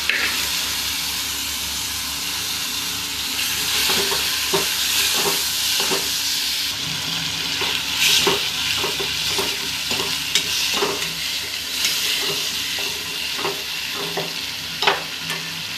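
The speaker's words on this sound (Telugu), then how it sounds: "ఇప్పుడు ఫ్రై చేస్తాం" Mutton fried rice stir-fried in a pan, a steady loud sizzle with repeated scraping and stirring strokes and hissing steam, close up and continuous, with no talking.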